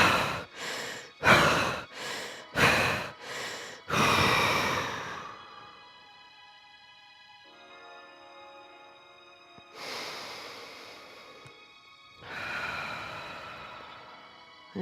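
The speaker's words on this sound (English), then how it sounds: "we're going to breathe 5 times quickly in, expanding your rib cage" A person takes five quick, forceful breaths in through the nose in a fast rhythm, then lets out a long, strong exhale. Later come quieter breaths and another long outbreath, close up and without talk.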